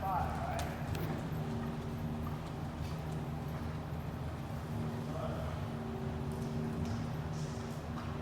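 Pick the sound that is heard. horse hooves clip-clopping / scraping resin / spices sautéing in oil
horse hooves clip-clopping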